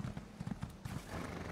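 Horse hooves clop in a quick uneven rhythm of about half a dozen soft thuds in The Elder Scrolls Online, followed by a short snort, heard alone and moderately close.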